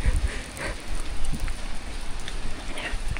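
Heavy rain pours down in a steady, dense hiss with a low rumble beneath, continuous and fairly loud throughout, with no voices.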